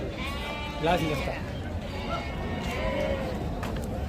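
Goats bleat at the Gudur livestock market. Two or three short, wavering bleats stand out near the listener over a busy murmur of people talking.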